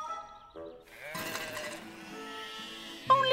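Cartoon sheep bleat several times, wavering calls at moderate distance, one after another with a brief pause between.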